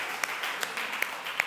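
Congregation applause at a Christmas worship service after a team's performance, a steady wash of clapping from a crowd with a few louder individual claps standing out, fairly distant and soft.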